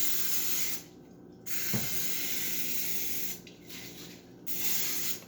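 Extra virgin olive oil sprays from a can into a 9 by 13 baking pan, three close hissing bursts of about a second each separated by short pauses, with no talking.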